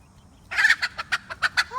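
A hen bursts into rapid, frantic squawks, a quick series of loud close cries in a panicked rhythm, with no voices.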